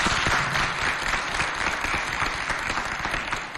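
University students in a studio audience at a television show applaud, a dense, sustained burst of clapping filling the room at steady loudness throughout.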